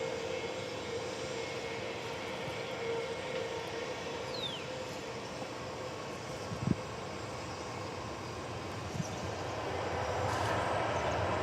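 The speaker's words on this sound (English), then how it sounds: "It's an Airbus A321." An Airbus A321 on its takeoff run at Dallas/Fort Worth airport in damp weather: a steady, broad engine roar heard from a distance, holding level and swelling slightly toward the end, with a couple of brief thumps.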